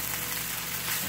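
Ground beef and potatoes for a Filipino picadillo (giniling menudo) sizzle in a frying pan while being stirred, a brief, steady crackle with a faint low hum beneath.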